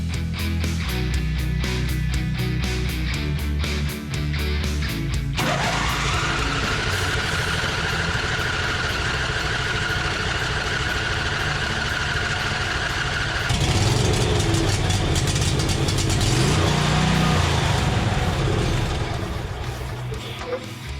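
Engine of a John Deere Z425 riding mower after an engine swap, running steadily up close with a constant low drone that shifts pitch partway through, no talking.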